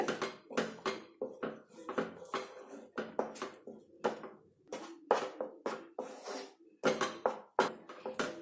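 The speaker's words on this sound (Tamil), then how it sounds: "நல்லா கெட்டியாகிற வரைக்கும் கிண்டிக்கிட்டே இருங்க அடுப்பை வந்து மீடியம் ஹீட்லேயே வச்சு கிண்டுங்க" Spoon scraping and knocking against a pan while thickening roasted gram (pottukadalai) halwa is stirred on a stove over medium heat, a steady series of soft, close clinks and scrapes.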